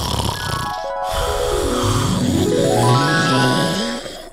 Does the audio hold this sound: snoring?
yes